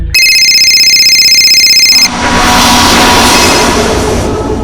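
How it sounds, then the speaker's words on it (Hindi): A loud electronic mobile phone ringtone pulses rapidly for about two seconds, then cuts off into a dense rumbling wash of noise. "आखिरकार भावेश का फोन फिर बजा।"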